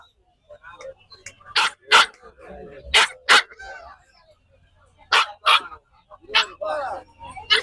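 A large dog at the Pallavaram market in Chennai barks at a puppy in loud, close bursts, single and paired barks spread unevenly across several seconds with brief pauses between them.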